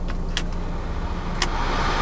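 Inside a 1987 Mercedes-Benz 190E 2.3-16, the air-conditioning blower gives a steady, loud broadband whoosh with a low drone underneath, and two brief clicks or rattles stand out, one near the start and one midway through.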